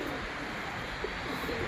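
Pet pigeons in a loft coo softly against a steady background hiss, faint and continuous without clear separate calls.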